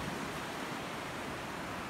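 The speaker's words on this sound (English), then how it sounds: "to listen to the sound of the waves" Ocean waves as a steady, soft wash of broadband surf noise, continuous and even, heard alone as a calm background for a meditation.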